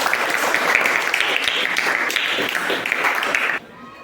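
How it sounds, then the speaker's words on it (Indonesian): Classroom of students clapping for a classmate, a fairly loud, steady patter of many hands that cuts off abruptly near the end, with a voice faintly audible amid it. "berikan tepuk tangan"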